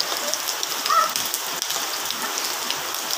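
Steady rain pattering on surfaces outdoors where children play and splash in it, a dense even hiss with no voices.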